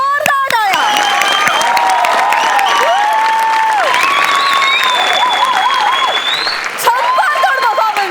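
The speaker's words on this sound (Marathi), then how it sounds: "जोरदार टाळ्या." A studio audience at a Marathi comedy show breaks into loud, sustained applause and cheering, with whistles and shouts rising over the clapping throughout.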